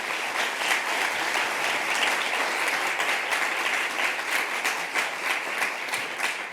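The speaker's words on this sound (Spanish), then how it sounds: "yo creo que se merecen un aplauso" Sustained applause from a conference audience fills the hall at an international public administration event, dense and steady clapping throughout with no voices rising above it.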